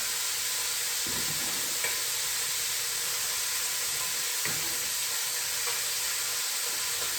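Onions and peppers sizzling in a hot pan, a loud continuous hiss of frying with a few soft stirring scrapes, close up and without talking.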